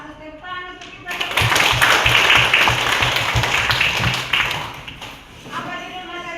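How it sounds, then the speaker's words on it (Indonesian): A classroom of students claps together for a lesson on God granting talents to people, a loud, rhythmic burst of group clapping near by, framed by voices before and after. "Bagus, tepuk tangan untuk kita."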